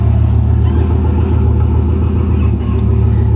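A 2016 Ford F-150 pickup with frame damage and a power steering fluid leak idles steadily nearby, a continuous low engine rumble and whir with no talking.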